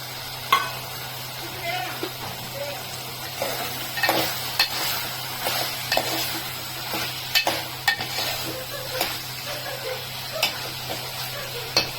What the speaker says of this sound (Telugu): బెండకాయ ముక్కలు వేస్తాను.